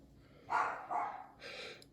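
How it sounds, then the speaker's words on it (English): A dog gives a few moderately loud barks or yips in an indoor setting, three short bursts spread over about two seconds. "the dog's gonna bark, because she always barks if you get anywhere near a phone"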